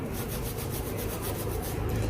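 A brush scrubs a gold ring up close in quick, even back-and-forth strokes, a rhythmic raspy rubbing that continues without pause.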